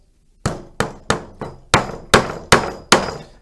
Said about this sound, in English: Knocking nails in, taking nails out.